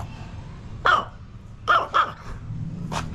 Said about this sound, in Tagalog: tignan nyo tong aso ng babae